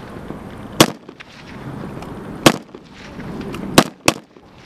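Gunfire from Cossack shooting drills in a field, with four sharp, loud shots spaced irregularly over a low outdoor background, the last two close together.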